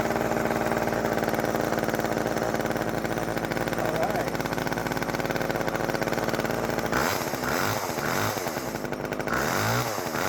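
A Poulan Micro XXV chainsaw's small two-stroke engine runs loud and close for about ten seconds, a steady buzzing drone that turns rougher and surges in pitch toward the end as the throttle is worked.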